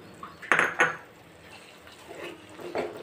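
Raw banana halwa scooped from a pan into a bowl in a home kitchen, giving a few close clinks and scrapes of metal utensils on cookware, with two sharper knocks early on and softer scraping after.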